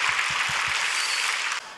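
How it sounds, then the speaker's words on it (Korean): A church congregation applauding after a Sunday worship service: a dense, steady wash of hand claps that drops off slightly near the end, with a few low thumps underneath. "우리 오늘도 선부 예배를 통해서 귀한 은혜를 주신 우리 한번 하나님께 박수로 영광 돌리도록 하겠습니다"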